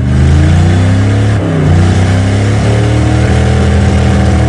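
An old, rusty Oldsmobile 88 that sat for three years, with a popped belt and something seized, revs hard: a loud, close, sustained engine roar that dips briefly before climbing again.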